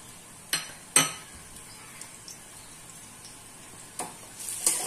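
Maggi noodles get mixed in a pan with Maggi masala, fried nuts, tomato sauce and chili sauce in white oil. A few sharp metal clinks of a utensil against the pan ring out over a quiet, steady sizzle.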